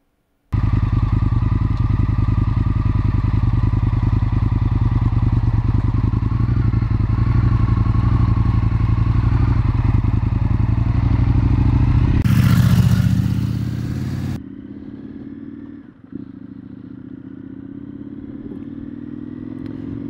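An Indian FTR 1200 S Race Replica motorcycle engine rumbles loudly and steadily for about twelve seconds, then a brief burst of noise, and the engine settles to a quieter idle.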